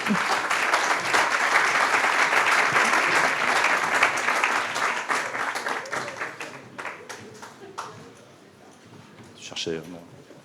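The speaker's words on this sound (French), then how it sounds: "On peut l'applaudir, s'il vous plaît." An audience applauds loudly and continuously, the clapping thinning out and fading after several seconds, followed by a brief voice near the end.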